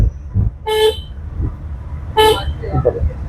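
A car horn honks twice in Indian road traffic, two loud, steady toots about a second and a half apart over engine rumble and background voices.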